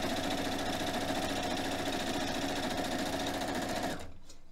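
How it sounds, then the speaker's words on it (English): A sewing machine runs a continuous quarter-inch seam on a fabric face mask, making a close, steady, fast mechanical whir. It stops abruptly just before the end, leaving near silence. "sewing all the way down with a 1/4 inch and all the way down until I hit to the end"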